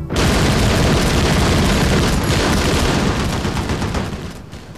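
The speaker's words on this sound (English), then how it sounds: "I order the machine guns to open fire." Dense machine-gun fire erupts in a Korean War hill battle, a loud continuous roar of rapid shots and booms that thins out toward the end, with no voices.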